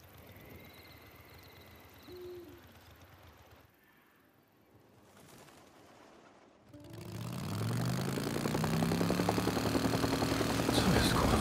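A motorcycle engine in the video game Days Gone starts up after a quiet stretch and then idles and revs loudly and steadily, preceded by faint ambient game sounds.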